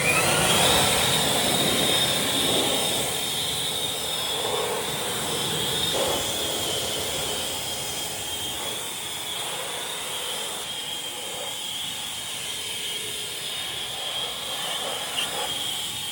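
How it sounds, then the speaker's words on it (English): An Ego leaf blower drying off car wheels, giving a steady loud broadband rush of blowing air that stays constant throughout with slight swells and no talk. "it can be any leaf blower. It's a good tool to have."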